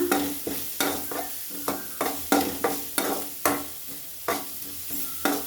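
Onions frying with salt in a hot pan for a potato and brinjal dish, stirred with a utensil, give a steady sizzle broken by regular scraping strokes roughly every half second, close and fairly loud with no talking.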